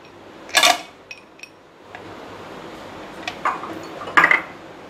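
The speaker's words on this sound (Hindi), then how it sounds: "हम इसमें आइस क्यूब्स डालेंगे।" Ice cubes drop into a jar holding vanilla ice cream for cold coffee, giving a sharp clinking rattle near the start, a few light ticks, then two more clattering bursts near the end, close and fairly loud against quiet.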